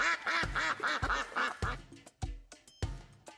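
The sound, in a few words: rubber ducks quacking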